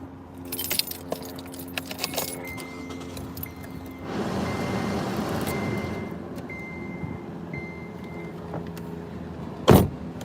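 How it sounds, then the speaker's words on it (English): Keys jangle and rattle inside a car, then the car's engine starts and settles into a steady running hum, with a few faint electronic beeps and a sharp clunk near the end. "I might have to turn my car on."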